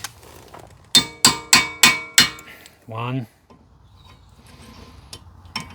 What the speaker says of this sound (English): just go and buy an impact screwdriver